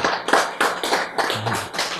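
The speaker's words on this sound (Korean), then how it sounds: "박수." A lecture audience claps in a few loose, broad bursts, close and fairly loud, with no one speaking over it.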